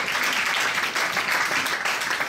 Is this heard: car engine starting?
no